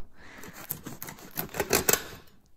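A knife saws through a crusty baked pizza bread, a quick series of crisp crackling crunches and scratchy rasps, close up and growing louder toward the end.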